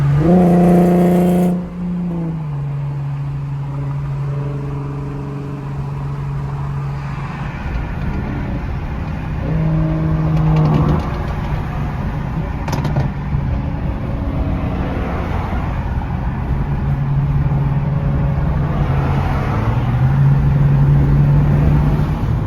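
Cars driving on a highway in Arizona after a car meet, heard from inside a moving car as a steady engine drone and road roar with shifting engine pitch, continuous and close, no talk.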